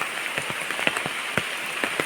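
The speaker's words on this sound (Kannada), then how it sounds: "ಇನ್ನು ಮಳೆ ಬರ್ತಾ ಉಂಟು" Rain patters steadily by a river, with scattered distinct drops ticking over a soft, continuous wash; no voices.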